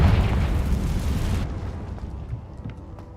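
A Confringo fire blast spell explodes in Hogwarts Legacy, a loud, broad roaring burst that holds for over a second, then cuts off abruptly and leaves a low rumbling tail.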